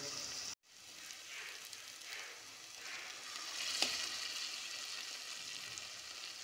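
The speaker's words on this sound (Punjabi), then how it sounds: "ਸਾਗ ਆਪਾਂ ਐਡ ਕਰ ਰਹੇ ਹਾਂ ਤੜਕੇ ਦੇ ਵਿੱਚ" Leafy saag greens tipped into a hot tadka in a pan, giving a steady bright sizzle and frying hiss that rises after a brief cut and carries on evenly, with one sharper crackle midway; no talking.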